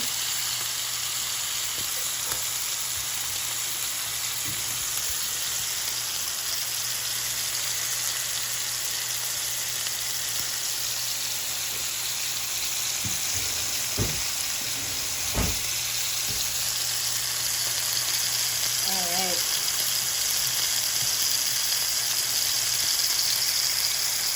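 Steak searing in a hot pan alongside mushroom and onion, a steady close sizzle with faint scattered clinks and stirring knocks, no talk.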